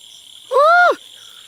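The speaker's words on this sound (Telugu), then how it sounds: "బహుశా అవి కప్పలుగా అరుస్తున్నాయి." A single loud, close frog call rises and falls for about half a second near a village railway station amid green fields, over a steady high insect drone.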